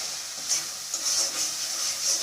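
Spice masala with tomato stir-frying for a singara filling, a continuous close hissing sizzle swelling in soft waves as the mixture is stirred, with faint scrapes and no voices.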